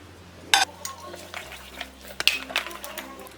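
A spoon stirs wheat dosa batter with egg, chopped onion, green chilli and coriander in a bowl, giving scattered scrapes and clinks against the vessel, with one sharp knock near the start and quieter taps later.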